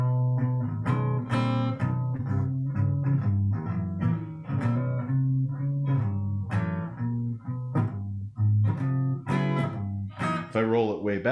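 Electric guitar played in a sound-development session with the bass control turned up, a run of close, moderately loud plucked notes and chords with a boomy low end, playing alone without talk.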